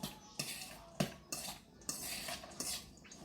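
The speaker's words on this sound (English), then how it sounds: "Then I'll be using a fork just to stir that, mix up." A fork stirs coleslaw in a bowl, making a series of sharp clinks and scrapes against the dish at an uneven rhythm, fairly quiet and close, with no voices.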